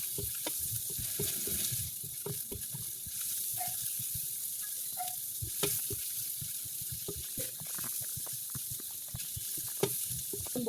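Onion and garlic browning in a pan for a pork soup with pechay and oyster, a continuous sizzle with busy crackling and stirring clicks, close and without talk.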